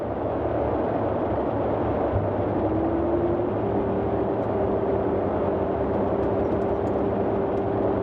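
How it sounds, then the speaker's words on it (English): Landing gear lowering on a Boeing 247D in Microsoft Flight Simulator 2020: a thin mechanical whine rises and then holds steady beneath the constant, loud drone of the piston engines, with no voices. "landing gear down."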